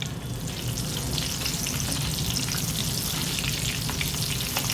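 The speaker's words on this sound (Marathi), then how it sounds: "छान ती पांढरी होईपर्यंत तळून घ्यायची" Slit green chillies fry in hot oil with a steady, dense sizzle and crackle that holds loud and close throughout, with no voices.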